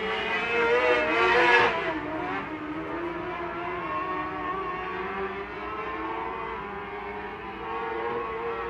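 Race cars roar past on the Placerville Speedway oval, a loud engine surge peaking early then settling into a sustained, droning whine as they circle the track.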